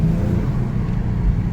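Genesis G70 3.3T with Takeda intakes accelerating, a steady low engine rumble and exhaust drone heard from inside the car, moderately loud and continuous without speech.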